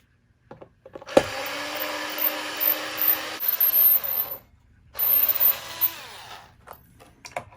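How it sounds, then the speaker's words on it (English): An electric screwdriver backs screws out of a Fender Americana Telecaster guitar. A sharp click comes first, then two loud sustained bursts of motor whine separated by a short pause, with faint handling noises around them. "I'm going to finish taking these screws out"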